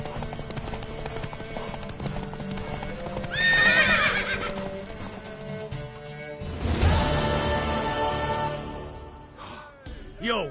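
Horse hooves clip-clop steadily in The Witcher 3 as a mare whinnies twice, loud and close, over a continuous game soundscape with a voice briefly present.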